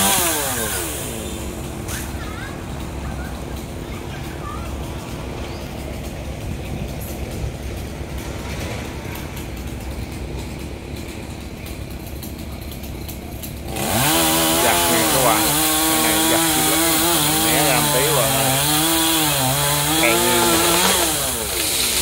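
A chainsaw cuts through a large eucalyptus branch near a road. There is a steady engine drone that rises to a louder, revving whine as the blade bites in, close and continuous, with no speech.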